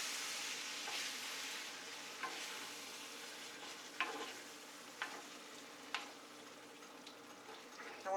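Diced tomatoes for shakshuka simmering in a cast iron pan, a soft, steady sizzle and bubbling with a few quiet clinks, faint and alone.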